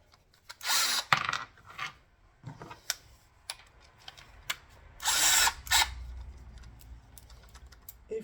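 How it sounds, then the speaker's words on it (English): A power tool drives a screw into farmhouse flooring during the last row, with short bursts of whirring and ratcheting separated by quieter clicks and handling taps, close by. "I'm gonna try to screw it using this tool"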